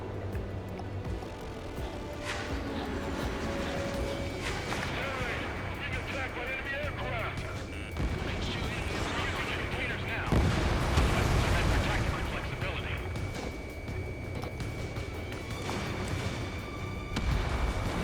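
Anti-aircraft fire and explosions from Ace Combat 7 rumble on steadily in a dense, loud wash of booming blasts and heavy gunfire, with a few sharper bursts near the middle, under radio chatter throughout.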